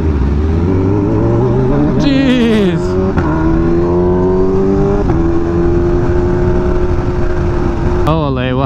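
A Kawasaki Ninja H2 motorcycle riding through Hollywood city streets, its engine droning loudly and steadily with rising and falling pitch as it shifts and revs, while a rider's voice talks over it.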